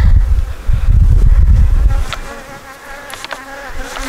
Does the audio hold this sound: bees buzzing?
yes